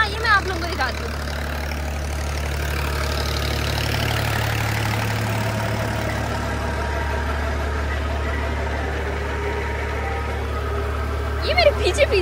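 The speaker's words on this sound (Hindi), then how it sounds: "अभी ट्रैक्टर के थ्रू चल रही है ट्यूबवेल और आ रहा है पानी।" Tractor engine driving a tubewell pump in a village on a hot day, a steady low idling drone with a faint knock, running continuously under occasional voices and a few brief sounds.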